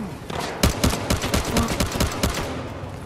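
MAC-10 submachine gun fire in the video game Battlefield Hardline, a loud, rapid string of sharp shots crackling in quick bursts for a few seconds.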